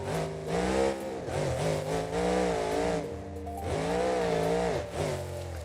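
A Voodoo monster truck in BeamNG.Drive roars continuously with a loud engine drone that rises and falls as the throttle changes, running steadily with no talk.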